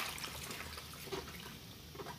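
Dirty water drains out of a basin during hand-washing of clothes, a faint continuous trickle and splashing heard alone at low level.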